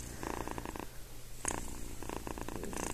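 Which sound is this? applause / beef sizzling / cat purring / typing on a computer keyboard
cat purring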